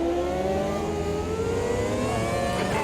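A McLaren F1 MP4/12 Formula One car engine in the racing sim AMS2, a loud continuous high-pitched scream with rising pitch sweeps as it accelerates through the gears.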